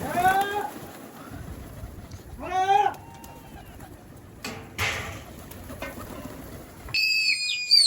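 Racing pigeons at a Multan loft, with several short warbling, whistling bird calls rising and falling in bursts, plus a brighter chirping call near the end, heard close over low background noise without talk.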